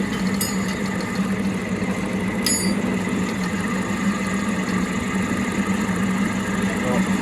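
An air compressor with worn piston rings runs steadily with a continuous engine-like mechanical drone and hum, a few faint high clicks near the start, no speech heard over it.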